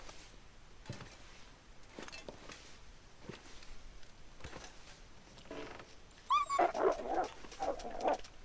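A dog whimpers and gives short yips and barks, faint, scattered sounds at first and then a louder, closer burst of excited vocalising near the end.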